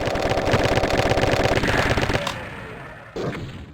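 A giant spider demon's chain gun in a Doom mod fires a loud, rapid, continuous burst for about two seconds, then cuts off into quieter rumble before a brief final thump.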